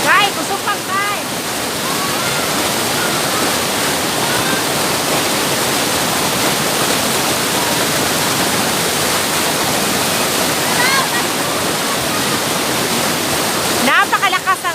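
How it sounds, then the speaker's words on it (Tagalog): Tamadong Falls in Barangay Mukas roars steadily throughout, a dense, loud rush of water that stays constant from start to finish. "Napakalakas ang tubig ha, tingnan nyo naman."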